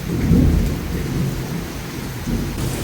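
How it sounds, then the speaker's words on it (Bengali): Heavy rain falls steadily in Krishnanagar under a deep, rolling rumble of thunder that swells and fades, with no voices. "আমাদের কৃষ্ণনগরে কিন্তু দারুণ বৃষ্টি হচ্ছে"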